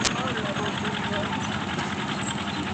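A 1957 Gravely 420 tractor engine runs steadily in a steam and gas association parade, a continuous rumbling drone under loud outdoor crowd noise and commentary.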